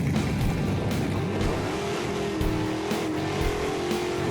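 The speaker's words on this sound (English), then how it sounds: "They just shut the whole road down and you just go drag racing down the street." A Chevy Gasser drag races down a closed street, a loud continuous engine roar with rising tones and gusts of wind noise, heard alone without voices.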